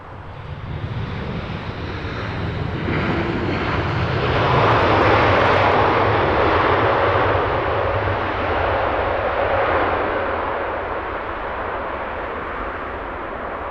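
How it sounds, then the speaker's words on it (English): Roaring thrust reversers on a China Southern Boeing 787 landing at Heathrow Airport, a loud sustained broadband rush that swells and then slowly fades, heard at a distance with no talk. "Great noise from those reversers."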